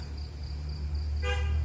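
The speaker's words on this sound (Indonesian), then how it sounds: "Jadi nah tuh ada mobil yang klakson tuh." A car horn honks loudly for a brief burst, sounding over a steady outdoor hum with insect chirping near a sacred grave site at Sagu, Ragunan.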